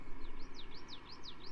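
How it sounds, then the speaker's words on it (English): Several small birds chirping at a desert golf course in Death Valley, a string of quick, rising high tweets repeating in a steady rhythm against a constant background hiss. "What are you, little birds?"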